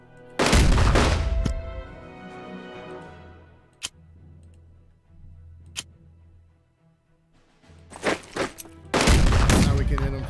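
Gunfire attack on a tank in the wartime strategy game Unity of Command 2, heard as loud bursts of shots at the start and end, with a few isolated sharp cracks between, no voices.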